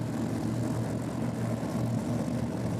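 A Ford Mustang drag racing car with a blown Hemi engine fires up: a steady, loud engine rumble idles continuously with a deep low drone, no talking over it.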